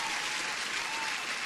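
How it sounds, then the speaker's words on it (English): Steady applause from a crowd, dense and continuous throughout, celebrating a passed Bulenox funded futures trading account combine. "Applause for passing the account."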